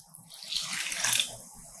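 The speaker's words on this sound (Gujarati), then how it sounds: "તો હવે આપણે આમાં પાણી ઉમેરીશું." Water is poured into a bowl of flattened rice (poha) for rinsing, a short close splashing pour that builds and fades within two seconds.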